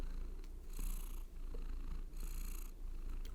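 A house cat purrs close by in a steady rhythmic rumble, with soft breathy cycles rising and falling about every second and a half, alone with no talking.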